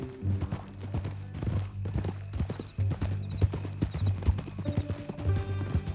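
Hooves clip-clop in a steady, even rhythm over a low background drone, a horse walking at a relaxed pace close by in Red Dead Redemption 2.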